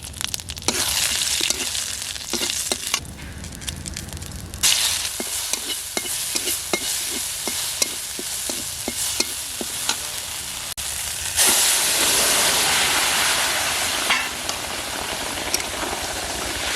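Oil with cumin seeds, bay leaves and dried chilies sizzles steadily for a tempering, with stirring scrapes and clinks over a continuous frying hiss that swells louder near the end; no voices.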